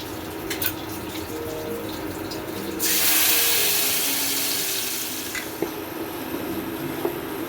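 Ground spice paste mixed with water hits hot oil seasoned with cinnamon and cardamom in a pan for vegetarian doi potol. A sudden loud, bright sizzle bursts in partway through and slowly fades.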